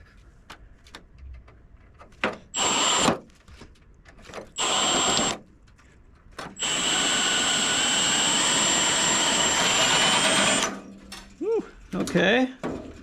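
Power drill boring a hole through a car fender during rust repair on a Chevelle restomod, a sustained high whining burst of several seconds after shorter bursts, close and loud, with brief talk between.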